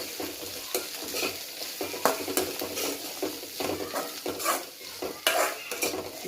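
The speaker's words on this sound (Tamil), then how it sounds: "தூவி விட்டுட்டு லேசாக ஒரு கலக்கு கலக்கிடலாம்" Black chickpea sundal tossed with grated coconut in a pan, quick scraping and clinking stir strokes over a soft sizzle, close and fairly busy, no one talking.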